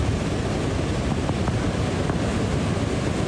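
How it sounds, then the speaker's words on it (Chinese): Heavy surf pounds the Taiwan shoreline during Typhoon Kong-rey, a dense, continuous roar of waves mixed with buffeting wind, loud and unbroken with no voices. "一阵一阵的海涌冲去岸边"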